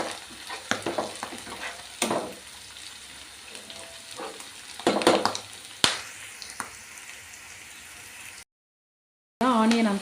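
Onions, curry leaves and green chillies sizzle in hot oil for egg bhurji, with a spoon stirring and scraping the pan in irregular bursts over a steady soft frying hiss, close and moderately quiet.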